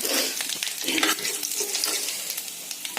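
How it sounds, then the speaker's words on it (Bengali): Cumin, dry red chillies and whole garam masala tempering in hot oil in a wok, a dense continuous sizzle and crackle with stirring, close and loud, no voices. "কড়াইয়ে তেল দিয়ে দিয়েছি, জিরে, শুকনো লঙ্কা, গোটা গরম মশলা সব ফোড়নে একটু দিয়ে দিলাম"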